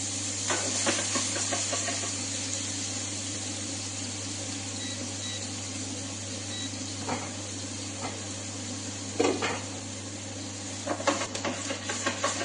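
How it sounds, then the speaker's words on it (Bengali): Cumin, onion and dry garam masala frying in a pot of hot oil, a steady close hiss with a low constant hum beneath, broken by a few soft stirring clatters, no talk. "তেলটা গরম হয়ে যাচ্ছে এর মধ্যে ঢেলে দিলাম জিরা পঞ্চাশ গ্রাম পেঁয়াজ এবং ড্রাই গরম মশলা"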